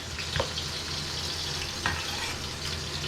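Cut potato pieces sizzling in hot avocado oil in a pan, a soft continuous fry hiss with two brief clatters of stirring or pieces dropping in, fairly quiet and with no voices.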